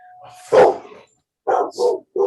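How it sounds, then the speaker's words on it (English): A dog barks nearby, one sharp bark followed after a pause by three quick barks, with nothing else around. "You can hear the dog barking too."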